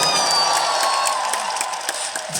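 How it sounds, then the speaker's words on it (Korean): An outdoor festival audience at a film open talk applauds warmly, a steady wash of many hands clapping with scattered cheers and whoops, loud and sustained throughout. "감독님께 뜨거운 박수 부탁드리겠습니다"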